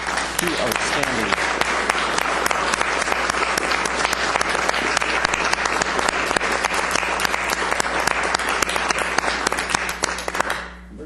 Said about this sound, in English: let's have a round of applause for these 2 outstanding